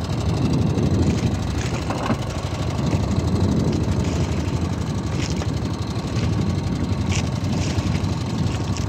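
A boat engine drones steadily and loudly without a break, a rough chugging engine hum with no voices over it.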